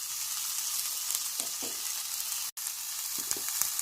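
Turmeric, chili and pepper powders fry in a pan while being stirred, giving a steady close sizzle with soft scraping strokes and a brief dropout near the middle, no talking.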